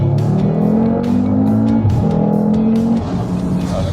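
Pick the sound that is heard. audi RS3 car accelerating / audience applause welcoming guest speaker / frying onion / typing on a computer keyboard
audi RS3 car accelerating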